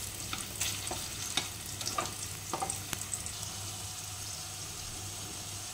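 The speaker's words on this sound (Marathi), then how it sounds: "आता ही सगळी वांगी आपण छान तळून घ्यायचे" Eggplant pieces fry in hot oil with a steady, soft sizzle, broken by occasional crackles and stirring clicks close by.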